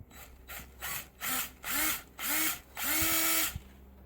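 A power drill drives self-tapping screws during repair work on a 1994 Ford Ranger, sounding as five or six short whirring bursts that rise in pitch and grow longer, separated by brief pauses, close and loud.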